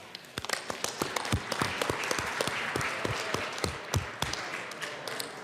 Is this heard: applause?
yes